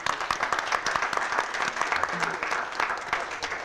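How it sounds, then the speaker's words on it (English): A public-conversation audience in Selma applauds a guest, sustained close crowd clapping with crisp individual claps and a few voices underneath. "let's give Ruth Cummings a round of applause"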